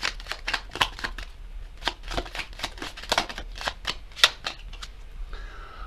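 A deck of tarot cards is shuffled in a rapid run of crisp riffling slaps and flicks, close and fairly loud, with no talking.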